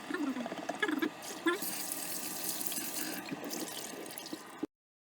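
Cold water runs over boiled yams in a kitchen, a steady close splashing and trickling with brief clinks and a voice murmuring early on, ending abruptly.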